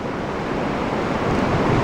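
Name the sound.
Huron River water and wind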